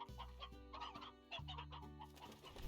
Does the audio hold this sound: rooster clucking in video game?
yes